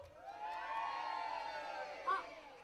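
A concert crowd at the Portarlington Carols 2024 event shouts back to the host, a steady mass of distant voices with a brief louder whoop near the end.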